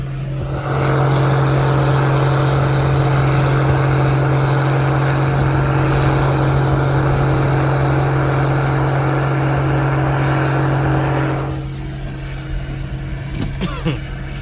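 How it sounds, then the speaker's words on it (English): A Case IH 1680 combine or tractor engine drones steadily and loudly during a canola harvest, a strong low hum holding for about eleven seconds before dropping away, leaving quieter field noise and a few faint knocks. "I think the old man's coming with the tractor"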